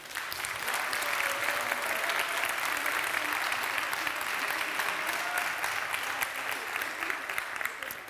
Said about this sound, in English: let's give them a warm applause as well